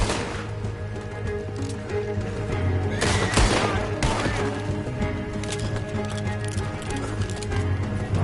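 Gunfire in a Western-style video game, with sharp shots and bursts cracking over a continuous background of hoofbeats and horses, plus some music and ambient noise throughout.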